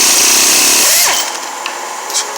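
A compact Matco angle impact wrench hammers loudly at a truck's lug nuts for about a second, then cuts off, leaving a quieter background with a faint clink.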